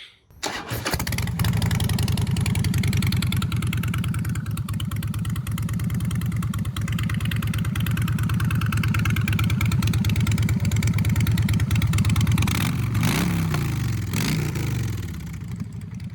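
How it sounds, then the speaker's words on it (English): A Harley-Davidson Night Train motorcycle with a new chopper exhaust fires up and settles into a loud, steady idle with a deep throaty exhaust rumble, with a couple of brief revs near the end. "And we got the new exhaust on. Fire up. Get a good listen to it."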